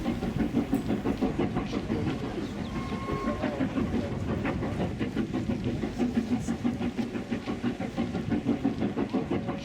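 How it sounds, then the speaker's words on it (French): A small tourist train hauled by a steam locomotive passes in the Scottish Highlands on the Fort William to Mallaig line, a loud, close rhythmic clatter of wheels over rail joints with engine rumble and brief whistle-like tones. "on peut y voir passer un petit train touristique tiré par une locomotive à vapeur"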